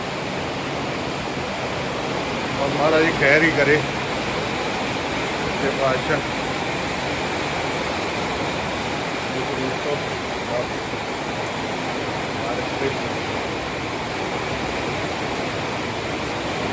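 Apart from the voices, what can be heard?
rainwater flowing down a hillside after heavy rain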